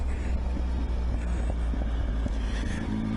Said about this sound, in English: Look at that burble.